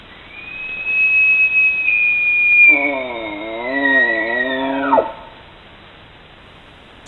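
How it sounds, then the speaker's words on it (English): At night, a bull elk bugles close to a trail camera: a single long, high whistling call rising and holding, then deep throaty grunting pulses underneath before it breaks off, loud and near. "really cool to hear an elk bugling"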